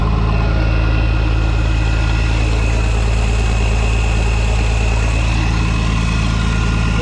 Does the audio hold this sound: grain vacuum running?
yes